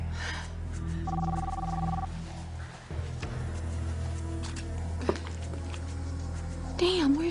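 A telephone bell rings in a domestic soap-opera scene, a steady electronic double tone over a low background hum and music, with a short pause and a brief sound near the end.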